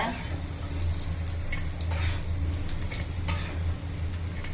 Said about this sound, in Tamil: பொறுமையாக சிம்மில் வச்சு 2 பக்கம் திருப்பி போட்டு இது மாதிரி எடுத்துடலாங்க